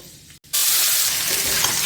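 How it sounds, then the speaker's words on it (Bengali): Chopped vegetables drop into hot oil tempered with bay leaf and fenugreek seeds, bursting into a loud, close sizzle after a quiet moment and then frying steadily. "তেজপাতার মেথি ফোড়ন দিয়ে তারপরে এবার সবজিটা দিয়ে দেবো।"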